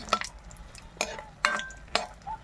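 Lentil dumplings (bori) stirred in hot oil while frying, with several distinct scraping clinks of a spatula against the pan spaced about half a second apart over a quiet background.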